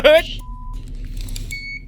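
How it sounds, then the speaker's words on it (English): A short electronic beep from a home alarm panel sounds after a brief loud tone as the alarm is deactivated, then a couple of faint higher beeps follow over low background hum. "that deactivates the alarm."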